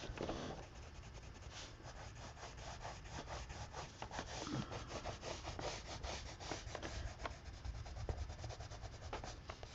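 A pencil is sharpened with a quick series of rapid scraping, grinding strokes, a close and fairly quiet rasping rhythm with no talk.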